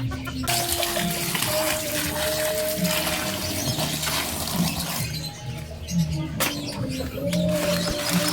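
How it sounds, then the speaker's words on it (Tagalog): Madre de Agua leaves being rinsed in running tap water, a continuous splashing flow with occasional clinks, broken by short pauses. "huwag niyong kalimutan na hugasan ang dahon ng Madrid de Agua"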